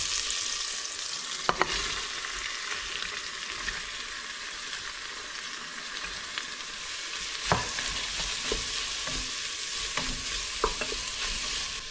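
Beef biryani masala with green chillies sizzles steadily in a pan while a spoon stirs it, with a few sharp scrapes and clicks standing out over the constant frying hiss; no one speaks.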